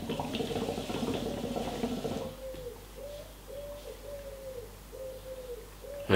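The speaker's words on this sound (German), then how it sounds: "Hört ihr die Taube im Hintergrund?" A pigeon coos repeatedly in the background behind a shisha tobacco review, faint low rhythmic coos recurring steadily after a brief stretch of muffled noise at the start.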